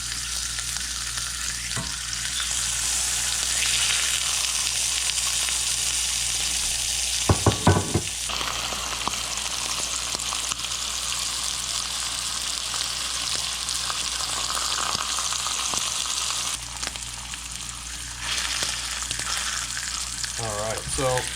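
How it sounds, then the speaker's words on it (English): Deer heart sears in a hot cast iron pan with a loud, steady sizzle and crackle throughout, briefly broken by a couple of sharp clanks near the middle. "Got a good sizzle to it."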